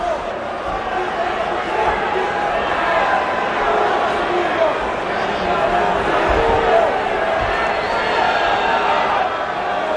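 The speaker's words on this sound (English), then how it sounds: "The crowd is chanting something." Arena crowd at an MGM fight event between Kevin Jordan and Gabriel Gonzaga, a dense, continuous roar with chanting swelling in the background while commentators talk over it.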